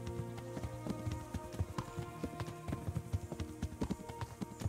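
Horse hooves clip-clopping in the medieval role-playing game Kingdom Come: Deliverance, a steady run of hoof knocks over game music and ambience, moderately loud with no talk.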